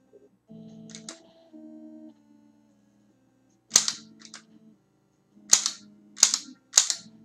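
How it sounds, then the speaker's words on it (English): Gunshots in the NES Zapper light-gun game Freedom Force: after electronic tones, four sharp, loud shot bursts ring out, the first alone and three more in quick succession. "Shots here."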